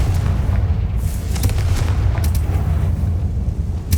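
A Confringo explosion spell goes off in Hogwarts Legacy, a heavy booming blast with a rumbling low end and sharp crackling bursts layered over it.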